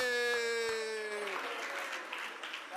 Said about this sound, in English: Get it, Wolverines, a round of applause